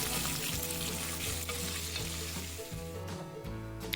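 Onions frying in a pan until translucent: continuous crackling sizzle with soft popping and stirring, heard close and steady throughout.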